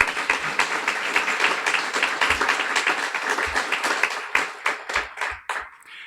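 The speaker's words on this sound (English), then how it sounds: "So a warm round of applause for both you as raisers and to the graduates." Audience applause at a guide dog school graduation ceremony, a warm round of clapping that holds steady, then thins into scattered individual claps and fades out.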